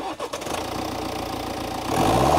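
A 2-litre diesel engine in a 2017 BMW X1 SUV runs with a steady, rough, clattering drone. It holds at one level, then grows slightly louder and fuller near the end, with no voices.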